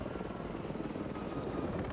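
A Gazelle helicopter of the Army's Silver Eagles display team flies at an air show, its rotor and turbine making a steady, dense, continuous drone, moderately distant and unbroken throughout.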